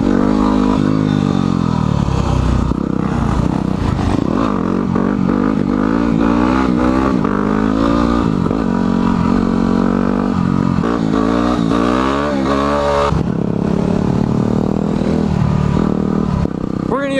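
Motorcycle engine revving steadily and loudly, a dense continuous drone with rising and falling pitch sweeps throughout, clattery and close, with engine tones shifting as the bike accelerates.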